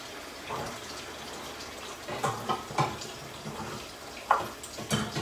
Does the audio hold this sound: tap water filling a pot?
yes